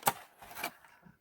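A few quick, dry snips from cutting rubber bands off toy packaging, with sharp clicks close by and separated by short pauses.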